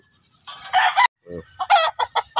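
A Talisay gamefowl rooster at a game farm crows loudly and close by in a couple of bursts, with clucking and brief background voices.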